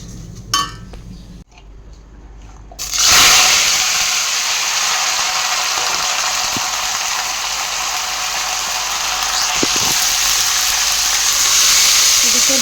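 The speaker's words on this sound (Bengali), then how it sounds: "চলো মুগ ডালটা আগে ভেজে নিই" Moong dal fries in a pan with a steady, loud sizzling hiss that starts suddenly and holds throughout, broken by occasional metallic clinks of a utensil, with a little talking nearby.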